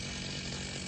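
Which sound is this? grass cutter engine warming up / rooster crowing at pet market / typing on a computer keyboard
grass cutter engine warming up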